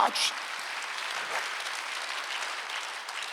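A church congregation at a Sunday worship service claps steadily and enthusiastically, a dense, continuous patter of many hands.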